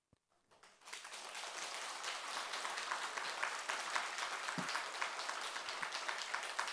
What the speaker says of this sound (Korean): 박수 받아보긴 또 처음이네.